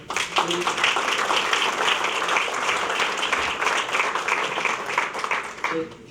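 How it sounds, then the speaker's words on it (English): Audience applause at a chamber of commerce dinner, a dense steady wash of many hands clapping that holds for several seconds before tapering off, with brief voices audible near the start and end. "We'll hold the applause just for now until we're finished."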